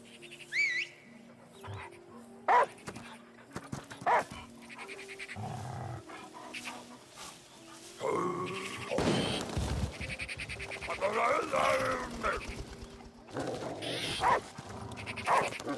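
A dog in the video game Last Day of June barks, whimpers and pants in short separate bursts against a quiet game background, then grows busier and louder in the second half.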